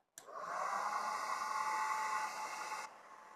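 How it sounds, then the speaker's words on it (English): A hair dryer starts abruptly and blows with a steady whirring hiss for about two and a half seconds, drying a handmade craft nameplate, then shuts off. "now i'll just use the dryer to quickly dry it"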